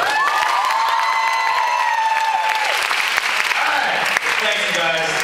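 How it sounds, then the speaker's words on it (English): An audience at a movie screening claps and cheers loudly throughout, with high whoops and shouted voices riding over the steady applause. "Let's extra applause for Jill."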